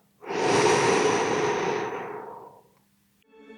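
One long, calm exhalation of breath, close and clear, a steady airy rush lasting about two seconds that fades out smoothly into quiet.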